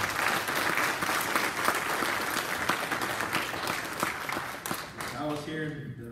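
A church congregation claps together in sustained, dense applause that fills the room at steady loudness, then thins and fades near the end as a voice begins to speak.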